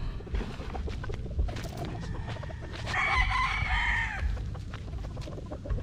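A gamecock broodcock crows over the clatter of a small backyard rooster farm, a drawn-out call in the middle of the clip. Scattered clucks and dense bursts of low rustling and knocking surround it.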